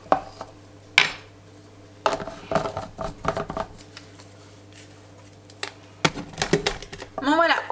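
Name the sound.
mixing beignet batter in a bowl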